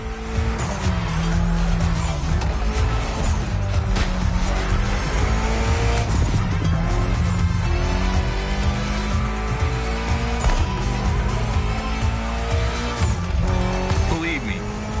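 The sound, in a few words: Mitsubishi inline-four car driving, from video game The Crew Motorfest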